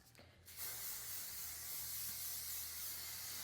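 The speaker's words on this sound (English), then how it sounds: "I just basically spray my entire head with hairspray." A continuous spray of aerosol hairspray onto hair, close and steady for about three seconds after a short quiet start.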